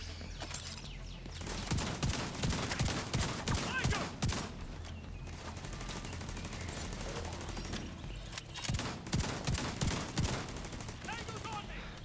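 Minigun fire in The Division 2 pours out in long, rapid rattling bursts, loud and continuous, broken by a couple of short pauses and mixed with other shots and a faint voice.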